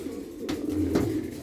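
Pigeons coo softly inside their coop at roost, low throaty calls rising twice over a brief stretch, close by and unaccompanied by talk.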